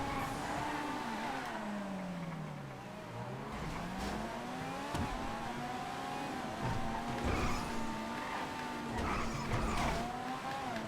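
A race car in the GTA FiveM video game drives continuously, its engine note rising and falling through gear changes, with steady road noise and occasional tire squeal over bumps, close and loud without talk.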